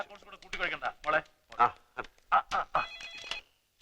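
A telephone rings in short repeated bursts, partly buried under lively overlapping conversation between several people.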